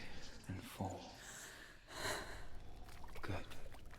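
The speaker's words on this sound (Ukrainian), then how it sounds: "Прислухайся до свого дихання. Відчуй вдих" Heavy, ragged breathing from Senua in Hellblade: Senua's Sacrifice, close and fairly faint, with a few sharp gasping inhales and breaths repeating across the moment.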